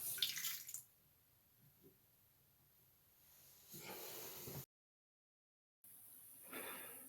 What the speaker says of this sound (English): turn the water on just a little bit just to make sure the line is clear